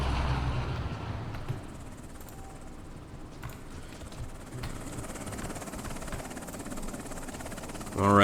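A Chinook helicopter flies in the video game Afghanistan 11, giving a continuous low rotor drone at moderate level that ends in a brief louder burst.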